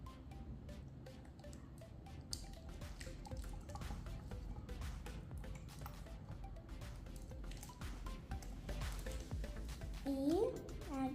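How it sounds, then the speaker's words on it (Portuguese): Water is poured into a pink slime mixture, a soft steady trickle with scattered drips and small splashes, fairly faint and close. "Aqui na etiqueta tá falando pra colocar 160 ml de água. Então vamos colocar aqui."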